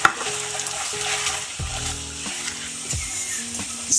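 Pork belly fries with soy sauce and sugar in a pan, giving a steady bubbling sizzle. Stirring scrapes and light clinks of a utensil against the pan break in now and then.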